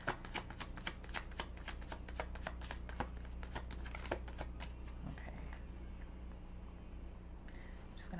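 Tarot cards riffled and shuffled by hand, a rapid run of crisp flicking snaps close up for several seconds, easing off toward the end.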